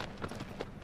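Horse hooves clip-clop at a steady gallop in the video game Shadow of the Colossus, the beats soft and muffled under a dense game soundscape.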